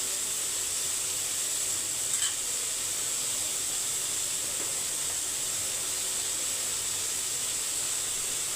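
Vegetables cook in a pan during a home lunch-box routine, giving a steady, even hiss and sizzle that runs unbroken and fairly quiet with no talk over it.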